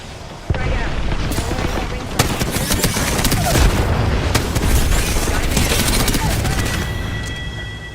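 Video game combat with a grenade explosion and sustained gunfire, giving a sudden loud burst followed by dense, continuous firing and booms that fade slightly toward the end.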